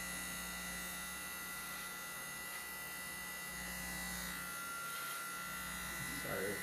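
An electric shaver buzzes steadily and close up while shaving a face, a constant motorized hum with slight variations in pitch as it moves across the skin, running throughout with no clear pauses.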